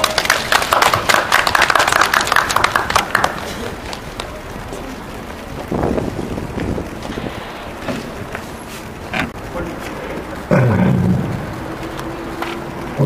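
A crowd claps at the 93rd-anniversary March 1st memorial ceremony at Gyeonggyojang. Dense applause fills the first three seconds, then fades into scattered thumps, footsteps and faint background noise.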